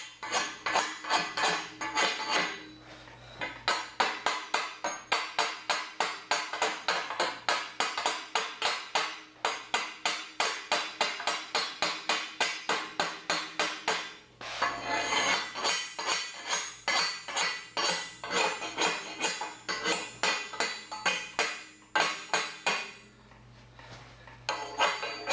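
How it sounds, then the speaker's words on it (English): A hammer repeatedly knocks cooled slag off a cut steel truck bumper from a 2001 Chevy 2500HD, giving rapid, steady metallic clinks and taps with a brief pause midway, close and loud with no talking. "usually this just flakes off pretty easily with the hammer"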